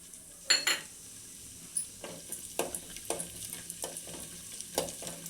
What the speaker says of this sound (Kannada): ಇವಾಗ ಗೋಡಂಬಿ ದ್ರಾಕ್ಷಿ ಎಲ್ಲ ಹುರಿದಾಗಿದೆ ತುಪ್ಪದಲ್ಲಿ